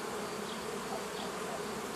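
Honey bees buzz in a steady, dense drone around an opened beehive of a new hive model, heard close and continuous with no speech.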